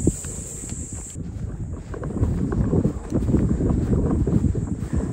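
Wind gusting across a golf course at Gyeongju's Mauna Ocean CC Blue Course, a steady broadband rush with buffeting against the microphone that strengthens midway and stays loud to the end, with no voices.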